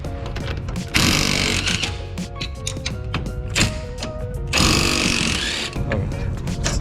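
An impact wrench fitted with a 17 mm impact socket works on a Nissan S13. It gives loud, continuous mechanical rattling and whirring, with two sharper bursts of hammering, and no speech.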